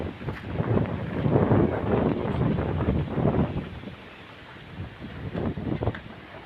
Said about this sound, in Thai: ลมแห้งครับ ลมเย็นสบายดี